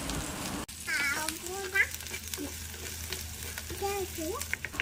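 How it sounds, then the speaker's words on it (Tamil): Onions and curry leaves frying in a pan, with a steady sizzle under intermittent stirring scrapes, starting with a sharp clack and with other sounds coming through. "எல்லாத்தையும் நல்லா இப்போ கிளறிக்கலாம்"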